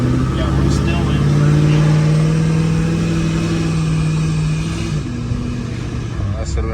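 A car engine, close and loud, holds a steady droning pitch that climbs under acceleration, then drops sharply at a gear change and settles lower, while a person talks over it.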